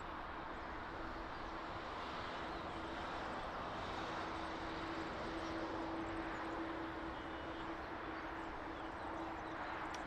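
Steady, continuous jet engine roar of an airliner on approach to land at Lisbon Airport, inbound from Amsterdam, heard from a distance as a broad even rumble with a faint tonal hum throughout.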